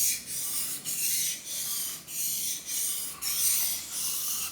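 HSS jointer knife being sharpened by rocking it back and forth on an abrasive, giving a steady rasping scrape in repeated strokes with brief pauses between them, close and loud.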